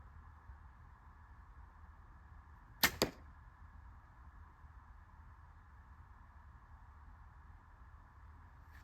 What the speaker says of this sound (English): Listen to how quiet this bow is.